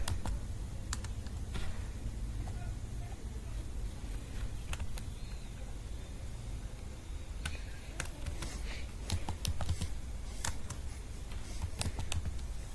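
Keys clatter at a steady, uneven pace while Python code is typed on a computer keyboard, the clicks close and fairly clear over a low room hum, with a few sharper taps standing out and no voices.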